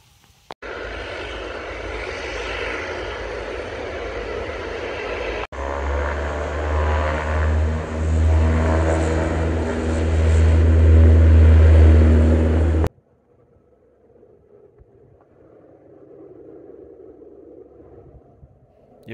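Propeller airplane at an airport in Nordland, Norway, beneath the mountains: a loud, steady engine drone with a low throbbing hum that swells to a roar, then cuts off, leaving a faint distant rumble.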